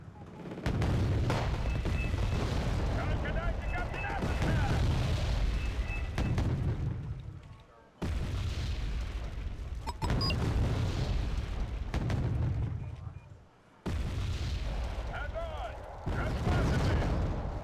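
Uragan rocket launchers firing in the Soviet support deck of Wargame: Red Dragon, as long sustained roaring blasts in three bursts with brief gaps, loud and dense with low rumble.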